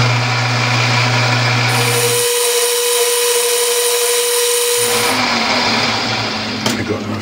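A metal lathe turns a nut, with a steady machine whine and hum throughout and a cutting tone in the middle where the pitch shifts, then a small clatter near the end.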